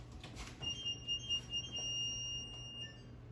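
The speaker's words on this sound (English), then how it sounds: "buzzer's about to go off" A kitchen timer buzzer goes off while something bakes at home, sounding as steady, fairly faint high-pitched beeping tones that hold for a couple of seconds over a low background hum.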